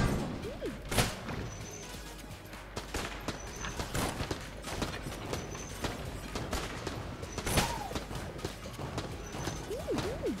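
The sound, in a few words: explosions from exploding enemies in the video game Enter the Gungeon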